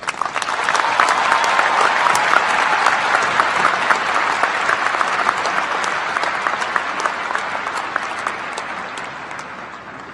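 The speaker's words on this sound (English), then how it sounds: "Please give a resounding applause to Professor Njabulo Ndebele." An audience in a large hall applauds a speaker with loud, sustained clapping that swells early and slowly tapers off toward the end.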